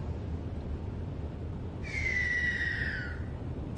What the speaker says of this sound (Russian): Черная сипуха.